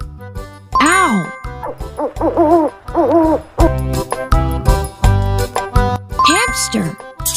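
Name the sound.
owl hooting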